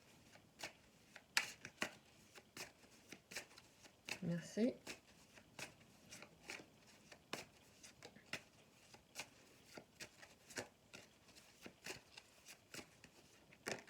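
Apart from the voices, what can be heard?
shuffling oracle cards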